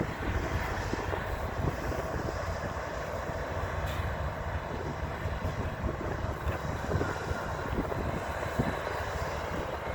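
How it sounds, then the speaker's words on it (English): A freight train locomotive engine passes close by, a loud, steady, dense diesel roar and rumble that fills the whole stretch without letup and without talk. "So as that third engine comes by"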